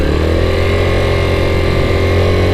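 A 1984 Yamaha Riva 180 scooter engine idles loud and close, a steady buzzing drone with a slightly uneven, surging pulse and no pauses.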